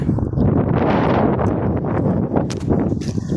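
Strong wind by the sea in Qatar buffets the microphone with a loud, rumbling gusty roar that continues throughout, with a few brief rustles.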